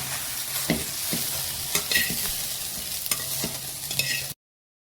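Okra (bhindi) roasts in a hot pan until spotted, with a soft continuous sizzle broken by sharp scrapes and clinks of a spatula stirring it, then silence at the end.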